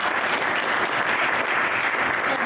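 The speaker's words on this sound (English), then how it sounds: "give a round of applause if you would for Mike Portwood." A panel-discussion audience gives a panelist steady, moderately loud applause, a dense continuous patter of clapping without a break for the whole stretch.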